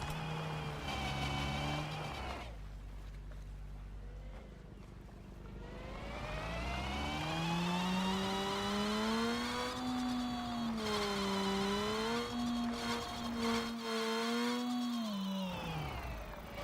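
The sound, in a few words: racing car combustion engines accelerating in video game Screw Drivers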